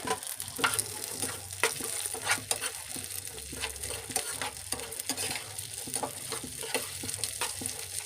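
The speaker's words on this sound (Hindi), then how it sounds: "बादाम को भी हम इसमें हल्का सा रोस्ट कर लेंगे घी में" Almonds roast in ghee for dry-fruit laddus, a steady close sizzle with frequent rhythmic scrapes and clicks as a spatula keeps turning them throughout.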